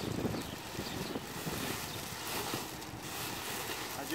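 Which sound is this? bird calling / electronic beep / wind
wind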